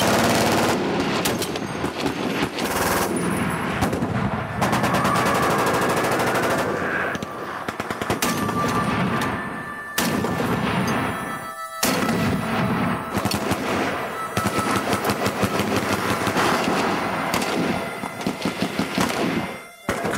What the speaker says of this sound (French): quelqu'un tire à côté de vous avec une arme automatique, surtout s'il est de gros calibre